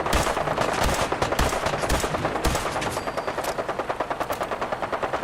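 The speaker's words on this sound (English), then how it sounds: "You can stop shooting at them, they're dead." Sustained automatic gunfire in the video game Fallout 4, loud and continuous, rapid bursts of shots with heavy booms early on, settling into a steady fast rattle toward the end.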